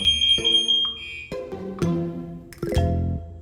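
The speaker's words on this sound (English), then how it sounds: "The fire alarm's going off." An electronic alarm chirps and rings in repeated bursts, loud and close, with tonal beeps layered over a ringing, bell-like clatter.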